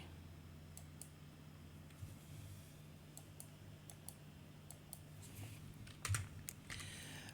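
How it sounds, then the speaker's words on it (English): Light, sparse clicks of typing on a computer keyboard while entering LaTeX commands for a title page, faint and close, over a steady low hum, with no speech. "I'm gonna type"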